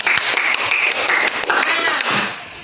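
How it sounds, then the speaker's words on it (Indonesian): Applause breaks out from a group, a burst of clapping mixed with voices, with a short lull before the clapping resumes. "Ya, tepuk tangan."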